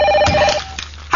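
A telephone rings once, a short bright electronic trill heard close and loud, followed by brief quiet.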